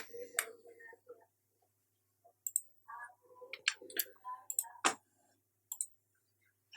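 Computer mouse clicks while working with the text tool in CorelDraw 2020, heard as a few sharp, close clicks spread across the clip between quieter spoken moments.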